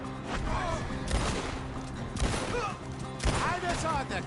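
Gunfire in Red Dead Redemption 2 during a shootout, several sharp bursts of shots spread across the moment, mixed with game ambience and shouted voices.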